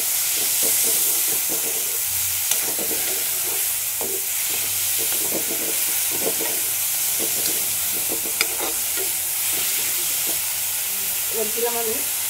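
Garlic paste sizzles in a pan with chicken, onion paste and green chili paste for a village-style chicken posto, with a steady hiss and repeated scrapes and clacks of stirring.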